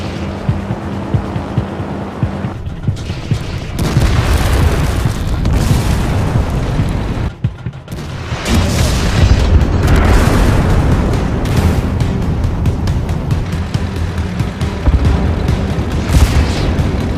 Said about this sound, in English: The airstrike will be any minute now.